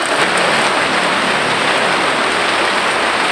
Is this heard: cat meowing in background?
no